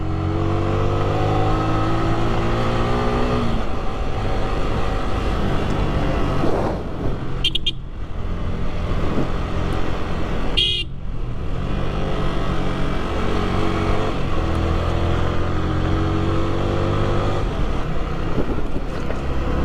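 A motorbike engine runs steadily and loudly up close on a rough track near a lake in Kanchipuram district, its droning tone shifting in pitch with a couple of brief bumps or clanks.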